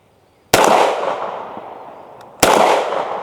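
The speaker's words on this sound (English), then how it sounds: "I'm gonna fire 4 rounds and try to hit it." Hi-Point C9 pistol fired outdoors: two loud, sharp reports about two seconds apart, each followed by a ringing decay.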